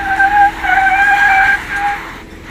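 A Jeep Cherokee Trailhawk brakes on dirt, and its sliding tires give a close, steady squealing whine for about two seconds before it fades.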